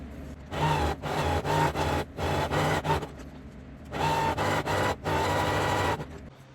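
A sewing machine stitches a gathering stitch on skirt fabric, running in several loud, close bursts of rapid whirring with short pauses between them.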